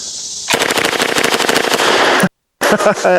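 An Uzi submachine gun fires on full auto, held one-handed: a loud, continuous rapid burst of shots lasting nearly two seconds, a brief silence, then another short burst.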